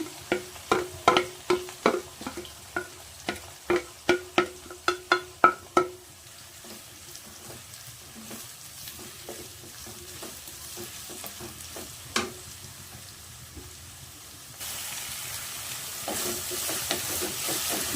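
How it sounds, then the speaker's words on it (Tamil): Chopped large onions and crushed small shallots go into a hot pan for a crab pepper gravy, with a run of sharp clattering stirs at first, then a steady sizzle of frying that swells louder toward the end, close by and with no talking. "கட் பண்ணி வச்சுருக்கின பெரிய வெங்காயம் போட்டுக்கலாம் கூட சின்னதாக சதைச்சி வச்சுருக்கின சின்ன வெங்காயத்தையும் போட்டுக்கலாம்"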